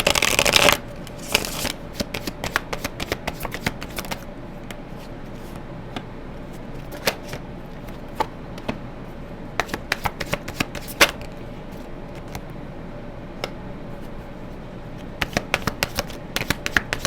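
Tarot cards shuffled by hand in repeated crisp riffles and flutters, with short bursts of card snaps spread through the clip, close and fairly quiet with no talking.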